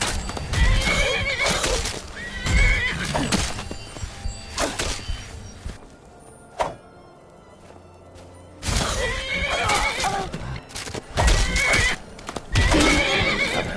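Horses in Skyrim neigh and whinny loudly in repeated bursts, with clip-clop hooves mixed in. A quieter stretch in the middle is broken by a single thump before the whinnying returns.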